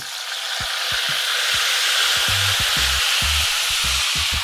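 Tilapia fillets fry in a hot pan with a constant, moderately loud sizzle, and soft intermittent knocks and tones sound alongside it.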